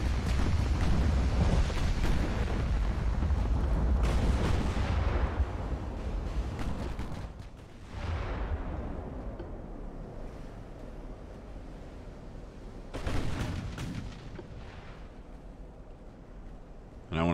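Battleship main guns fire in the naval video game Ultimate Admiral: Dreadnoughts: a few heavy booms come at intervals over a constant roar of wind and surging sea.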